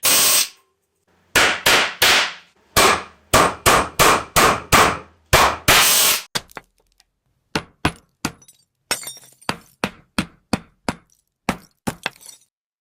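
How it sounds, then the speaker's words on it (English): A hammer strikes objects in quick bursts of sharp blows, first dense and clattering, then a steadier series of separate impacts with a ringing, glassy edge. "The generated hammering sound should adapt to the material of the object."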